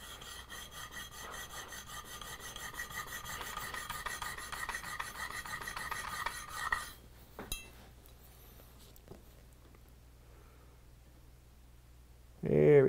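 A blade being sharpened on a sharpening plate makes a steady, continuous rasping scrape for several seconds, then stops, leaving a few faint clinks and near silence.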